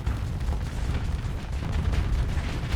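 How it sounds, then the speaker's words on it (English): Missile launch in a space fleet combat game, a loud, sustained low rumbling roar with crackling bursts, continuous for the whole stretch with no talk over it. "Missile launch."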